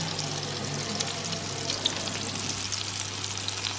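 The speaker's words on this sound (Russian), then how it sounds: "Вот уже жарится потихонечку." Semolina mixture frying in a pan, a continuous soft sizzle with faint crackles, close and steady, with no talking.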